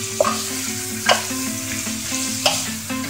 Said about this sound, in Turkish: şöyle biraz karıştıralım